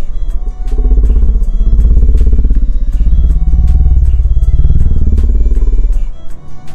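A new 2023 Kawasaki H2 motorcycle rides off, its engine loud and close with a deep throbbing rumble that rises and wavers for several seconds before cutting away.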